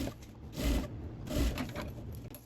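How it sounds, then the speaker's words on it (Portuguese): A sewing machine stitches a half-centimetre seam along a zipper on a sublimation-printed school pencil case, its motor whirring in two short bursts with a lighter hum between them. "Aqui a gente vai passar uma costura de meio centímetro."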